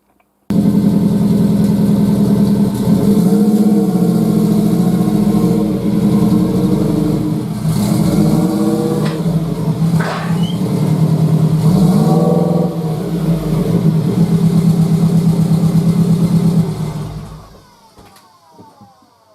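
An air-cooled VW Beetle engine idles and then revs and strains as the lowered car drives up onto ramp extensions, a loud close mid-pitched drone with several rises in pitch before it cuts off near the end.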